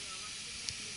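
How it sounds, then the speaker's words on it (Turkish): A samovar steaming beside a campfire at a highland campsite gives a steady soft hiss with faint crackle, low and continuous. "Şu an semaverimiz demlendi."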